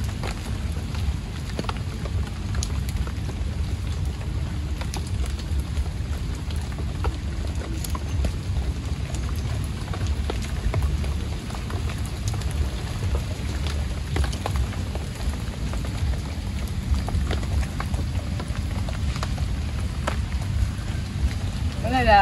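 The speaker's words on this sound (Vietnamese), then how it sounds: "Bây giờ là trời đang mưa luôn á các bạn." Steady rain falls outdoors over a field, a dense continuous patter with a low rumbling wash, loud and constant throughout.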